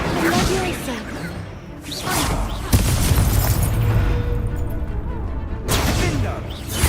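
Confringo spell blasts from a video game, heard as repeated booming bursts with whooshing swishes, the loudest near the middle and toward the end, over a dense, busy game soundscape.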